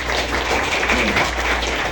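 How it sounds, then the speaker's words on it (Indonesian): A student audience at a high school orientation event in Karangasem, Bali, breaks into brief applause, a thick, loud patter of many hands that holds steady throughout. "Tepuk tangan sekali lagi."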